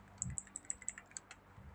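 Computer keyboard keys pressed in a quick, uneven run of about ten crisp clicks, close and fairly quiet, with a couple of soft low thumps at the start and end.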